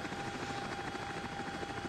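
Steady, loud rotor and turbine drone of the X-Trident CH-47D Chinook tandem-rotor helicopter taxiing on the ground in X-Plane 12, with a continuous whine and a fluttering low throb and no voices.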